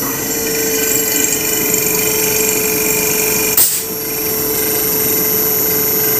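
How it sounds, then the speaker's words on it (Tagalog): A Daikin air conditioner compressor runs with a steady droning hum and whine, close and fairly loud, broken by one brief knock partway through. "Sumandar din yung compressor ito"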